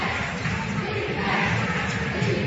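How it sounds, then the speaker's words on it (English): Basketball arena crowd noise during a college game's third quarter, a steady, dense roar of many voices swelling slightly, continuous and moderately loud throughout. "the crowd getting involved a bit for really the first time today"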